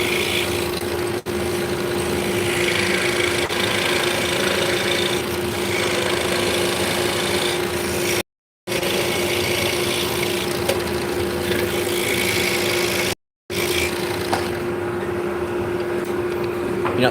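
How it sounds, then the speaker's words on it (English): A forced-air heater furnace runs in the basement beneath a small commercial workshop in a building from 1900, giving a steady, continuous hum with a low tonal drone throughout, alone and unchanging. "So we got a forced air heater in the furnace in the basement."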